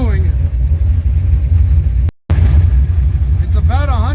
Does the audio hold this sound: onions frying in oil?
no